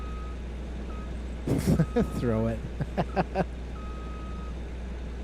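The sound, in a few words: vehicle reversing beeps in the video game Farming Simulator 25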